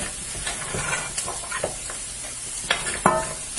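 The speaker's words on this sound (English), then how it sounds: "it's frying up the bone" A meat bone fries in a pot, sizzling and hissing steadily up close, with occasional scrapes and clinks of stirring.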